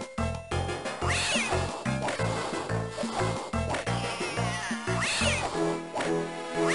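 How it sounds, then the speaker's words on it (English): Cartoon cat meowing and yowling in the Over the Hedge video game, repeated close cries over a busy backdrop of game music and effects. "Hey, kitty cat!"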